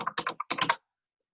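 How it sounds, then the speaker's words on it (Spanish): A computer keyboard being typed on during an online Python class, a short burst of about eight quick keystrokes in two clusters, close and clear, then silence. "Escucho como un teclado de alguien como que está tipeando."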